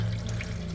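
Coolant drains from the radiator of a 1997 Ford F250 7.3L pickup, a steady faint trickle and splash of liquid running out with no voices.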